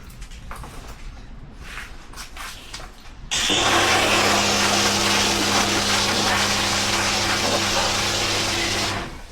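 Faint clatter gives way to a sudden loud, steady mechanical whir and hiss as a snow foam sprayer runs continuously, coating a Harley motorcycle in foam before cutting off near the end.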